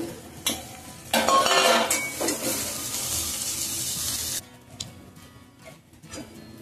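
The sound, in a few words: mixing cowpea vegetable in a pan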